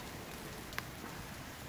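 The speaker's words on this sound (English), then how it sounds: "It's starting to sag with the rain." Rain falling steadily on a bushcraft shelter, a soft continuous patter at low level with one brief sharper drip standing out near the middle.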